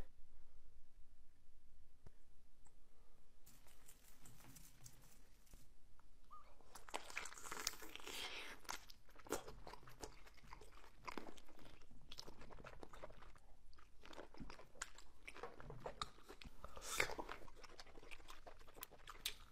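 Someone bites into a chamoy pickle with wet, close crunches followed by a run of irregular chewing bursts and quieter smacking gaps, sitting alone over a very quiet background.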